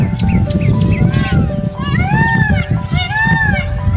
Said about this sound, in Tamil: ஆரம்பத்தில் ஒரு ட்ரம்பெட் இசைக்கிற மாதிரி ஸ்டார்ட் ஆகுது இந்த மயிலோட ஓசை